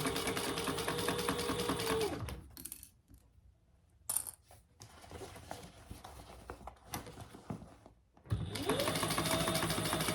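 A sewing machine stitches a seam on a fabric caddy from the gusset side, running loud and close in two sustained bursts with slower, intermittent clicking and jingling stitches between them.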